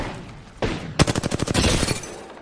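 Video game gunfire rings out as a rapid burst of loud, close shots, fired in a quick rhythmic string after a couple of single reports.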